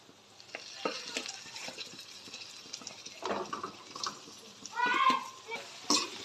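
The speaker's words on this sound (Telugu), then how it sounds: "చికెన్ వేసుకున్నాము బాగా కలుపుకోవాలి" Chicken pieces are stirred into biryani masala in a pot, with soft, repeated scraping and mixing over a low, steady sizzle, fairly quiet and close.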